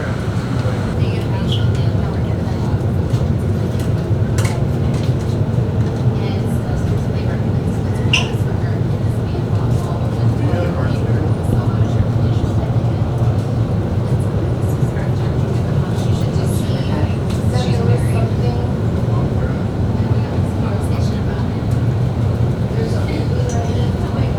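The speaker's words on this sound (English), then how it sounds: "The train is approaching." An automated Miami Metromover train approaching a station rumbles steadily and close by, a constant low mechanical roar running unbroken from start to finish.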